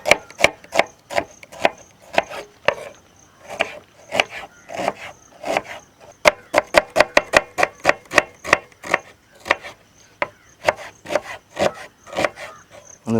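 Onions chopped with a knife on a board: a long run of sharp, close, rhythmic knocks that speed into quick bursts partway through and then settle again.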